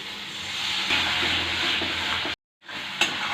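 A little water poured into frying masala with Kashmiri red chilli powder for a mushroom dish, giving a steady close sizzle that cuts out briefly near the end and then resumes.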